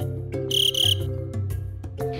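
Crafted toy crickets for a children's book activity are heard as a run of bright, high-pitched chirps in short repeated bursts over a tonal background, up close and fairly loud.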